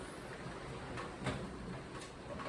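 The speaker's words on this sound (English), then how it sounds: "I'm just gonna close the door a little bit." A door being slid or pushed closed indoors while rain falls outside, a faint soft scrape and a light knock against a steady hiss of rain, with no talking.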